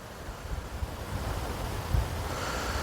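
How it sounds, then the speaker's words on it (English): Strong wind blows across a golf course in Yorkshire, a continuous rough roar buffeting the microphone at close range throughout. "I've just told you that the wind's really strong"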